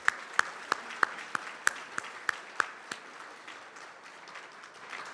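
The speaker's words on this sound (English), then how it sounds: "Let's give this young lady one more round of applause." Audience applause for a young woman after her national anthem performance at a Douglas County, Georgia State of the County Address, with a handful of sharp, distinct claps over a steady crowd clapping that fades after about three seconds.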